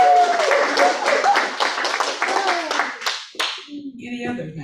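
Church congregation clapping and cheering after an announcement, a dense patter of many hands with a few whoops, fading out near the end, followed by low murmuring.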